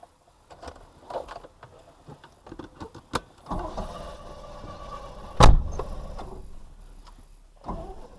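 A Triumph Stag with car trouble, its engine running as a steady broadband rumble with a few sharp knocks and a loud thump midway, close by and with no talk.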